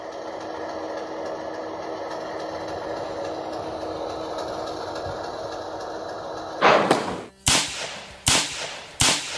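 A model Morrison Knudsen diesel locomotive gives a steady, droning hum with sustained tones, then four sharp, loud bursts in quick succession.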